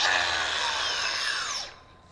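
A Metabo HPT 36V cordless 6 inch angle grinder spins at full speed with a loud, steady high-pitched whine, then winds down near the end of the clip.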